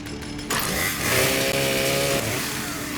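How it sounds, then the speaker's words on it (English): A flaming chainsaw in Fallout 76 starts up and revs, a sudden loud buzzing snarl that rises in pitch, holds, then eases back, close and heard alone. "I got this chainsaw."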